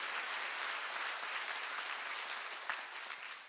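Church congregation at an evening revival service applauding together, a dense, even wash of many hands clapping heard from a distance, steady and quiet throughout.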